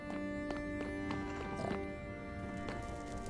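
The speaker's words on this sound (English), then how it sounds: "I keep hearing like a horse." Faint irregular clip-clop of horse hooves in Minecraft under a droning electronic hum and background game noise, with a few scattered clicks.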